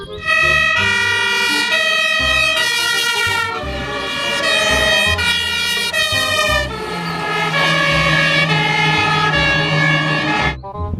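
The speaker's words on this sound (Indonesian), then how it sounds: "Yang ini namanya mobil pemadam kebakaran" A loud electronic toy fire truck siren wails continuously, its tones stepping and warbling in a repeating pattern, close up with no talking.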